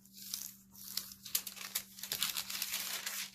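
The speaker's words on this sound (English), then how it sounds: "let me fold this over" A paper envelope flap being folded over by hand, close and fairly quiet crinkling and crisp rustling in short uneven bursts over a faint steady hum.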